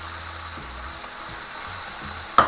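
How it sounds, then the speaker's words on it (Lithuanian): Shrimp and cheese rolls frying in heated oil, a steady close crackling sizzle running throughout, with a few faint clicks and one sharp pop near the end. "Į karštą aliejų reikia, įskaitintą."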